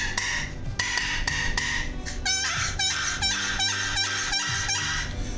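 Wooden box call worked by hand to imitate a wild turkey for locating birds: a few sharp yelps early, then a loud, rapid rhythmic run of raspy yelps and clucks, close and piercing.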